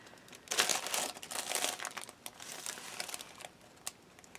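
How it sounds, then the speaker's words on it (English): A stitched paper bag tied with string or ribbon crinkles and rustles as it is handled close up, with bursts of crackling louder near the start and smaller scattered crinkles afterward, and no talk. "this stitched paper bag"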